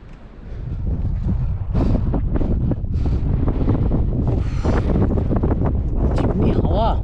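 Strong wind buffets the microphone on the steep off-road mountain route to Sandakphu, a constant loud roar with gusts throughout, and a voice speaks briefly over it.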